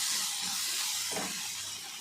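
Curry leaves and spices with tamarind sizzle in a hot pan for a cauliflower gobi manchurian, a soft continuous frying hiss with a brief rustle of stirring midway, quiet and close.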